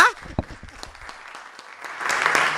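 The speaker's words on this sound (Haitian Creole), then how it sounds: "On nous applaudit encore tout le monde" An audience applauding at a program gathering, with scattered claps at first that build into fuller, denser clapping toward the end, moderately loud.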